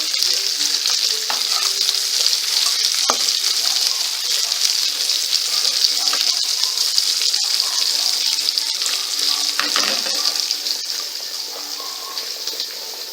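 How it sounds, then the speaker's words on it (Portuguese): Onion cooks in a hot pan: a steady, loud sizzle and crackle of frying with occasional stirring scrapes, continuous throughout. "Vou esperar aqui a cebola mexer um pouquinho."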